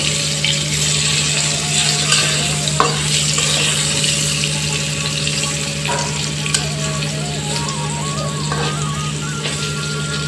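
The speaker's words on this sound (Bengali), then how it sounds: "আলুগুলাকে একটু লেড়ে চেড়ে দেই। একটু ভাজা হয়ে গেছে" New potatoes fry in a pan with a constant loud sizzle and occasional scrape of stirring, while a low steady hum persists underneath.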